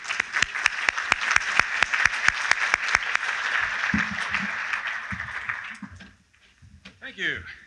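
A conference audience claps to welcome a speaker to the stage, loud steady applause with crisp individual claps that fades out, followed by a few quiet voices and movement.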